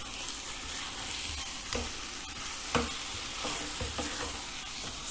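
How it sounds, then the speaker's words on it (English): Boiled eggs are tossed and stirred in sizzling biryani masala in a pan, giving a steady frying hiss broken by a few scraping stirs and clinks, close and without talk. "toss them in the masala or the gravy and take them out"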